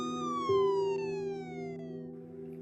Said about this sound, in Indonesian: itu ambulannya lewat